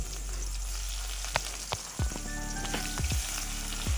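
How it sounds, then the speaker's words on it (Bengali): Chopped onion frying in hot oil with black cumin seeds in a wok, a steady close sizzle throughout with a few sharp stirring knocks and scrapes near the middle and end. "পেঁয়াজ কুচিটাকে একটু ভেজে নেব"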